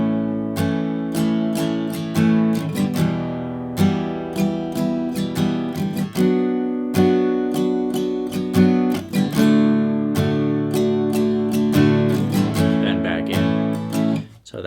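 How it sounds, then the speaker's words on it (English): Guitar strummed steadily through a four-chord pattern, steady rhythmic strokes ringing out loud and close, with no talking over it. "If you wanted to strum through the pattern, it would sound like this"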